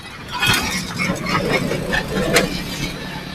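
Motorcycles and other traffic pass along a road at sunset in Ragay, giving a continuous moderate engine rumble with passing whooshes and a few brief bursts.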